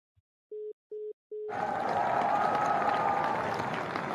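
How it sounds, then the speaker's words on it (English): Three short electronic beeps come first, then a burst of canned applause that swells and holds steadily to the end, loud and continuous, cheering a podcast caller. "Let's give Troy some hand claps"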